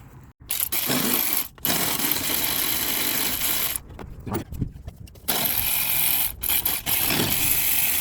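A hand tool works loose the 10 mm bolts holding the throttle body on a Kia or Hyundai engine, giving dense, gritty mechanical rasping close up with a few abrupt breaks.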